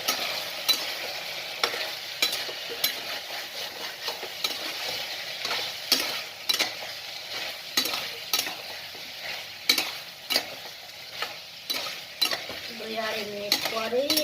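Chicken frying in a pan while being stirred, a low sizzle broken by repeated sharp utensil scrapes and clinks in an irregular rhythm, close by, with a brief squeaky sound near the end.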